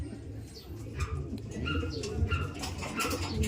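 Racing pigeons coo softly amid rustling and a few wing flaps, with the low murmur of birds close by and a steady background hum.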